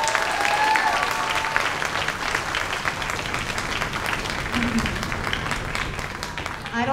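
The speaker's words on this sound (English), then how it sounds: "One more round of applause, please." Sustained audience applause at a junior high school spring concert, a steady dense wash of clapping that holds evenly for several seconds, fairly loud and with no clear talk over it.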